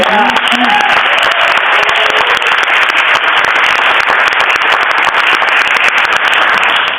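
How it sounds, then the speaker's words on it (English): A large festival audience gives a round of applause, dense continuous clapping that fills the space, loud and steady for the full stretch with a few voices faintly mixed in at the start. "one more round of applause for you"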